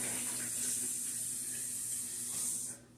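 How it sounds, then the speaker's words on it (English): Water runs from a kitchen tap while hands are rinsed beneath it, a steady close splashing hiss that carries on for nearly three seconds before it cuts off. "Wash my hands real quick."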